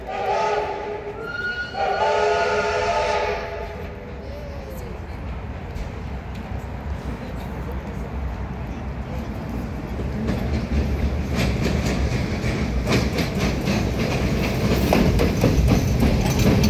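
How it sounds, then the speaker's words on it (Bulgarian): Train passing on the line at Pernik central station, rumbling steadily close by with rising clatter and a brief horn near the start, loud and continuous with no talking. "Идва влак по тази линия, пазете се."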